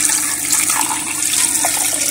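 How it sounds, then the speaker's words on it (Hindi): Water pours steadily into a cooking pot holding browned beef for hunter beef, a continuous splashing rush lasting about two seconds with no talking. "और इसमें पानी डालेंगे सारे"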